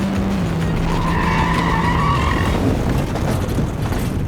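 Formula 4 race car sliding off the circuit onto the grass, a loud sustained tyre skid with engine drone running beneath for several seconds, then settling into rumbling as it runs onto the grass.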